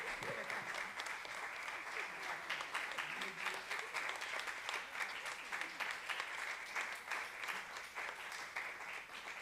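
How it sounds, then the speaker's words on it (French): Audience applause at a festival: a dense, sustained wash of many hands clapping that holds steady throughout, heard from a distance and fairly faint. "je voudrais, s'il vous plaît, un maximum d'applaudissements pour toutes ces personnes"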